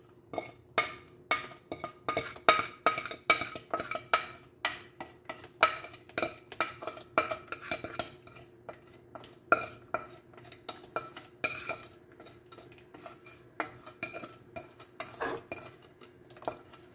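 A utensil stirs and mixes gelatin in a bowl, steady quick clinks and scrapes of metal against the dish in a continuous rhythm, close and moderately loud, with no talking.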